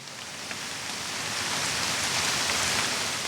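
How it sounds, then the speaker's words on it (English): Steady rain falls on the woods during a Michigan deer bow hunt, a soft, even hiss of drops on leaves that swells slightly and continues unbroken, with no voices. "It's raining now."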